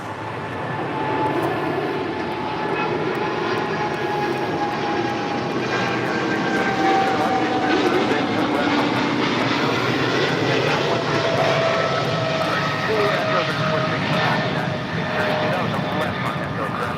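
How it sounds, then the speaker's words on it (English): A Boeing 777 freighter taking off at LAX, its engines producing a steady, loud roar that holds for the whole stretch, with faint rising engine whine throughout. "That is Polar Air Cargo 962 taking off to Cincinnati on a 777 freighter."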